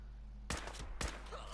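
Two sharp gunshots from the video game Fallout 4 crack about half a second apart, each with a brief rumbling tail over a steady low hum.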